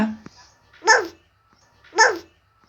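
A voice imitates a dog with two short barks, spaced about a second apart, in an otherwise quiet room.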